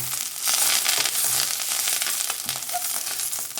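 Curry leaves sizzle and crackle in hot oil in an Andhra-style kitchen, a steady close frying hiss with a few soft stirring knocks, no voices.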